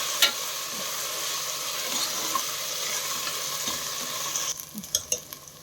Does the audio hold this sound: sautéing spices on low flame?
yes